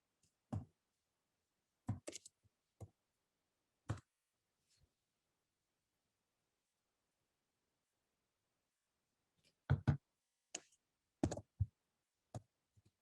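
Numbers are typed on a computer keyboard in a quiet room, a few sparse, faint key clicks in small clusters separated by long silent gaps.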